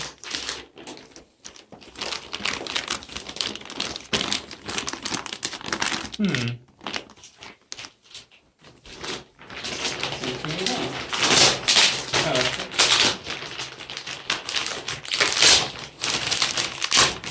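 Plastic wrapping crinkles and crackles as a king-size Endy mattress is unboxed, with irregular bursts of sharp crunching and rustling close by. A person talks at times over the noise.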